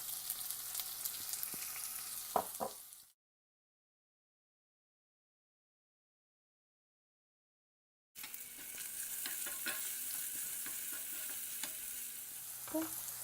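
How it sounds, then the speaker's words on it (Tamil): Onion and garlic sautéing in a pan for Indian garlic gravy, a steady sizzle with occasional stirring scrapes, then about five seconds of total silence before the frying resumes. "இப்போ பார்த்தீங்கன்னா வெங்காயமும் பூண்டும் நல்லா வதங்கிருச்சு"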